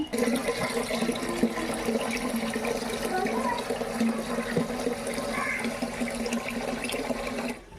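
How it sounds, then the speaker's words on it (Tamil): Water poured from a container into a vessel in a village home, a continuous splashing flow that runs steadily for several seconds before stopping. "தண்ணியை எடுத்துகிட்டு வந்து வைக்கணும் அந்த தண்ணி எடுத்து பழுப்பில் விட்டுருக்கேன்"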